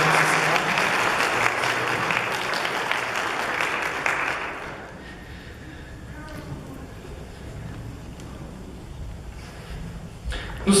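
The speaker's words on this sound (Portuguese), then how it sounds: "Dá salva de palmas para essa família." Congregation at a Catholic Sunday Mass claps together for a family in a full, dense round of applause that stops abruptly after about four seconds, leaving quiet room tone.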